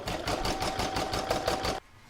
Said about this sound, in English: pop it into my machine and stitch the outline